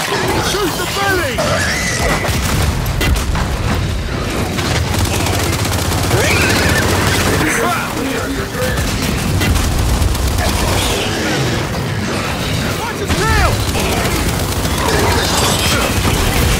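Heavy gunfire in the video game Gears 5 rattles on almost nonstop, with automatic bursts, booms and crashes, loud and dense throughout, while voices shout over the combat.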